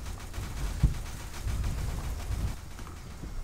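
Rapid gunfire in the mobile shooter game Shadowgun: Dead Zone, a dense burst of low, punchy shots with one sharp crack standing out, continuing steadily throughout without speech.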